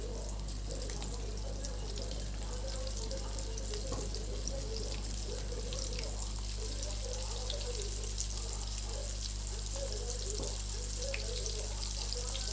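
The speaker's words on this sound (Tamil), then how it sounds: "அதில் தனித்தனியாக அதில் போட்டு நம்ம பொரித்து எடுத்துக்கணும்" Oat-coated prawns frying in hot oil, a continuous faint crackling sizzle with scattered pops, steady throughout and without speech.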